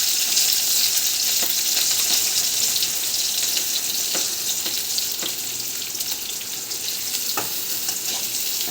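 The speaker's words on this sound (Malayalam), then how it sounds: "ഓയിൽ ചൂടാകുമ്പോൾ കുറച്ച് ഉള്ളി ഇടാം" Onions sizzling and frying in hot oil in a pan, a steady dense crackle with occasional stirring clicks, close and continuous with no voices.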